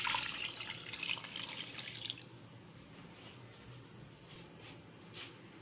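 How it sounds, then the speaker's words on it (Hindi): Water pours from a tap into a cooking pot of beef pieces and spices for yakhni pulao, a running stream for about two seconds, then quiet drips and small clinks close by. "अब हम इतना पानी डालेंगे"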